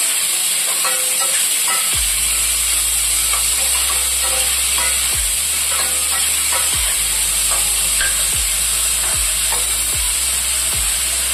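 Chopped onions, green chilies and turmeric fry in oil for a chicken curry with cashews and almonds, a loud, constant sizzle with regular low scrapes of stirring roughly every second or two.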